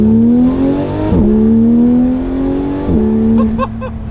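A Porsche 911 GT3 RS with a newly fitted titanium exhaust accelerates through the gears. Two upshifts break a rising, rasping engine note, heard loud and close from inside the car with no talking.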